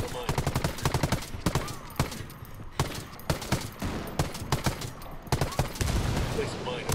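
Gunfire in the video game Ghost Recon Wildlands, rapid bursts of sharp automatic shots in irregular clusters, loud and close, with brief pauses between volleys and voices speaking at times.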